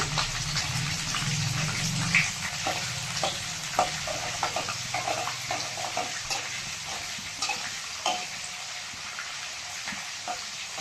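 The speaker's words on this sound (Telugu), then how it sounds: "ఇలా పచ్చి పచ్చిమిర్చి ఎండుమిర్చి దూరగా వేగిన తర్వాత" Green and dry chillies fry in hot oil with a steady, loud sizzle. A spoon scrapes and stirs the pan now and then, without speech.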